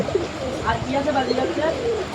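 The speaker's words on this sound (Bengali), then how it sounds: "ডাকাডাকি করতেছে নরটা, অনেক ভালো ডাকে।" A male owl pigeon coos in low, rolling, repeated murmurs close by. Other faint cooing and indistinct background sound fill the short stretch.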